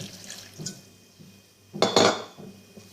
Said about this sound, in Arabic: تنضيف له السكر والقليل من الماء